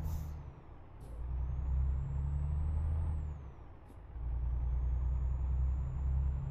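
A Volvo truck driving in Euro Truck Simulator 2, with a loud low engine drone that rises and falls, sharp hisses of air brakes and a faint high whine above it.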